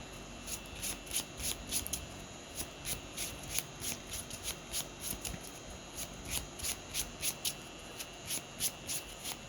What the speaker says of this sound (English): And then shuffle these 2 back.